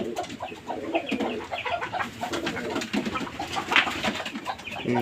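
Giribaz and Sirazi pigeons cooing close by in a loft on a very hot day, soft throaty calls overlapping in a busy flock, with occasional rustling and a faint clucking in the background.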